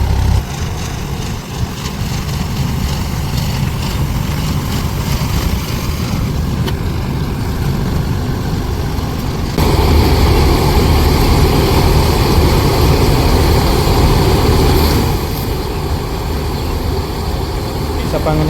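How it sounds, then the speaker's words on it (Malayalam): A tractor coming to collect harvested paddy grain in a rice field drones in a loud, steady low engine hum that swells slightly midway, with voices talking over it. "ഇത് ഗ്രെയിൻസ് കളക്ട് ചെയ്യാനായിട്ട് ട്രാക്ടർ വരുന്നുണ്ട്."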